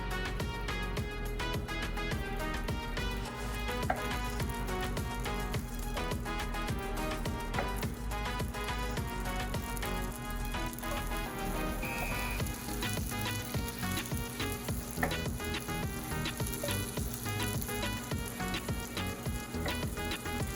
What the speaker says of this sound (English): We're going to melt some butter.